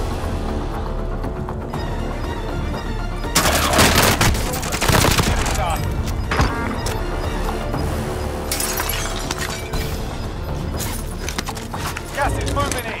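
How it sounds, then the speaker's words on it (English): Hostile gunfire in a battle royale video game, dense bursts and rapid shots crackling loudly through most of the stretch over a steady game ambience, with a voice speaking now and then. "Receiving hostile fire."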